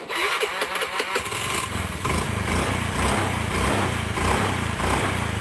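An automatic scooter with weak power starts after the ignition is switched on: a brief starter whir, then the small engine catches and settles into a loud, steady, buzzing idle close by.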